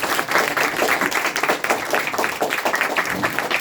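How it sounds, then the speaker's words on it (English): An audience claps together after a group's presentation, a dense and steady wash of applause at a lively pace throughout. "Let's give a round of applause for"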